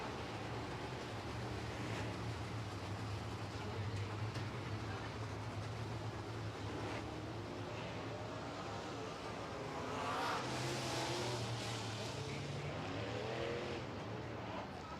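Modified race cars circling a track under a yellow flag make a steady engine drone with a car swelling past partway through, heard from a distance while a commentator talks over it.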